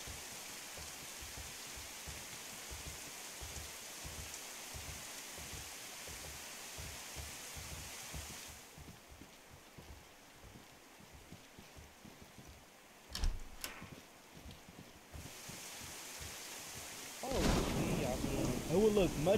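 Heavy rain hisses steadily in the DayZ video game with a low rumble of thunder underneath, a brief crack partway through and a louder surge of downpour near the end, with no voices.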